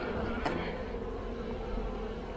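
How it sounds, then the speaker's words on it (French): Dense, steady hum of many honeybees busy inside a spring beehive, a continuous close buzzing drone that fills the whole stretch with no voices. "les abeilles sont très très occupées"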